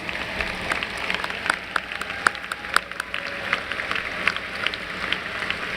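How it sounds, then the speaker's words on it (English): A school welcome-ceremony audience applauds, a dense, steady wash of many hands clapping at moderate loudness, with no one speaking over it. "Join me in giving them a round of applause."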